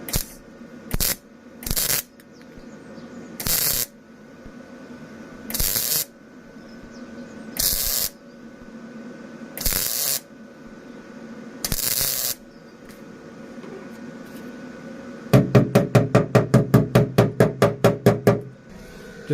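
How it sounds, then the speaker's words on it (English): MIG welding on the body of a Ford Transit campervan, short bursts of harsh crackling buzz repeated about every two seconds, close and loud, followed by a rapid string of quick tack pulses near the end. "Just running my weld across here."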